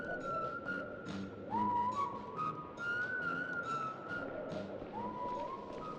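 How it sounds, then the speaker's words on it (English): A man whistles a wandering tune in sustained, gliding notes over a busy background of video game ambience and soft clatter, in an SCP Foundation game. "The guy with a box on his head? Whistling."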